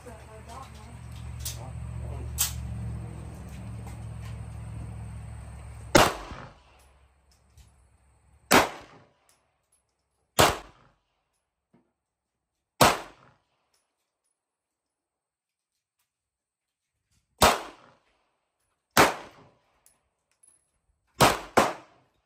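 Gunshots from a real gun at an outdoor shooting range ring out one at a time in sharp, loud, separate cracks, with a few seconds between most shots and two close together near the end. A low rumble with other sounds runs under the opening before the shooting begins.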